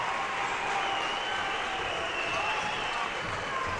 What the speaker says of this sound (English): the crowd's giving him a standing ovation to come back into the game